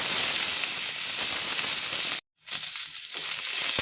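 Eggplant, beans and potato fry in a pan for a village-style sojne phul chhechki, giving a loud, steady sizzle that cuts out for a brief moment, then resumes with crackles and stirring.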